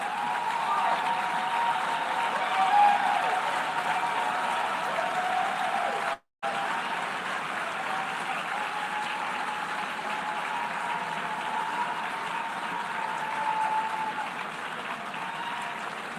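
Sustained applause fills the UN General Assembly hall during a Security Council election, a broad even wash of clapping from a large crowd that continues throughout, interrupted only by a brief cut.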